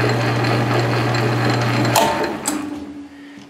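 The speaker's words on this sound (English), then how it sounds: "Shut the lathe off." A metal lathe turning a part for an ER collet chuck hums steadily with a low tone for about two seconds, then is switched off with a couple of sharp mechanical clunks as the sound winds down and fades.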